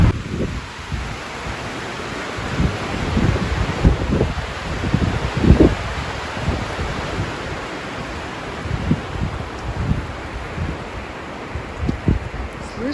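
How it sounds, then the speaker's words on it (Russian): Wind rushes through a pine forest, a broad, fluctuating roar with gusts swelling and easing, plus low buffeting of the wind against the microphone. "А вы бывали в лесу, когда ветер?"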